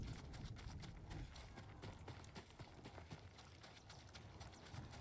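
Horse hooves in a video game clop rapidly and steadily, a galloping rhythm of dull thuds with a faint clicking mechanical texture throughout, no voices.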